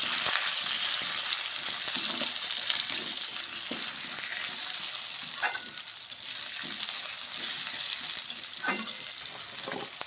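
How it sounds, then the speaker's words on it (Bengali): Potatoes frying in spiced oil in a pan for a winter-vegetable bhog khichuri, a steady dense sizzle running throughout with occasional stirring scrapes and pops, close and fairly loud. "আলু দিয়ে দিচ্ছি আলুটা একটু ভেজে নিচ্ছি"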